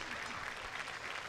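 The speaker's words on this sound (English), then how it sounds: "he's going to get a nice round of applause here from Patriots fans" Baseball fans in the stands clap for a home plate umpire struck on the helmet by a broken bat, a brief, steady patter of crowd applause heard from a distance with a broadcast voice over it.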